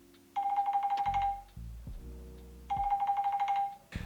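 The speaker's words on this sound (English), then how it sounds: "I just recorded the alarm clock going off and added just the sound to the whole clip" An electronic alarm rings in two long buzzing bursts separated by a pause, loud and close, with some low thumping between them.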